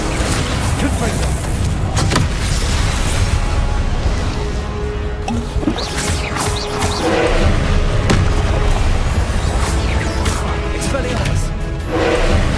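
Confringo fire spell explosions in the Hogwarts Legacy video game, loud booming blasts and thuds repeating over dense continuous game noise, with a voice shouting spell names throughout.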